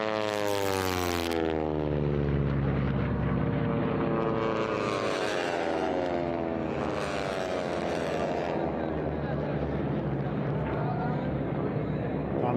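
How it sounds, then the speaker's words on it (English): A T6 aircraft with Pratt & Whitney air-cooled 9-cylinder radial engine and 9-foot Hamilton Standard metal props with supersonic tips, racing past as a loud continuous roar with a sweeping pitch shift, under steady commentary. "That beautiful music of the Pratt & Whitney air-cooled 9-cylinder engines and those 9-foot-long Hamilton standard metal props with the tips going supersonic"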